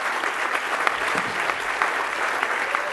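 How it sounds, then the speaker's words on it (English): Steady applause from a crowd, dense clapping filling the whole stretch at an even loudness with no voices standing out. "Give him another round of applause."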